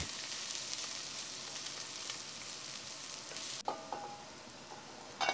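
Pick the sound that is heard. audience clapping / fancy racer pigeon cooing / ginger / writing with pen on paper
ginger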